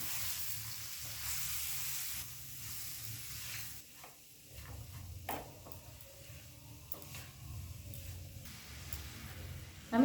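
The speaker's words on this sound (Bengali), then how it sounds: "এবার গ্যাসটাকে হাই ফ্লেমে রেখে 2 থেকে 3 মিনিট নাড়াচাড়া করব" Cabbage stir-fries over a high gas flame, a soft steady sizzle broken by occasional sharp scrapes and taps of a spatula against the pan, fairly quiet and close.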